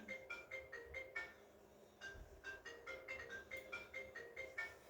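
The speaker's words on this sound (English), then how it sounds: "Let the phone ring." A faint electronic ringtone plays a repeating melodic pattern of short beeping notes, pausing briefly before starting again.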